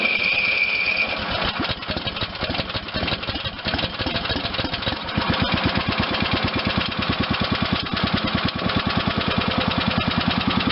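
A Briggs and Stratton 21M314 16.50 engine on an Ariens machine, freshly fitted with a new head and head gasket, runs with a steady rapid firing rhythm up close, growing louder and more even partway through.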